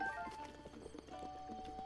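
Horse hooves clip-clop in the video game Zelda Breath of the Wild, a quiet, irregular run of soft thuds under faint music tones.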